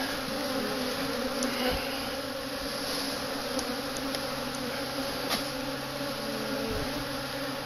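A honey bee swarm being dumped into a hive, a dense continuous buzzing hum heard up close and steady throughout, with a few faint knocks underneath and no talking.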